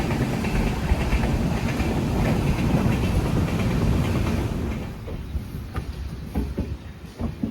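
The Konkan Kanya express arriving at Oros station: a loud, continuous rumble of rolling carriages with faint clicking from the wheels, easing slightly toward the end.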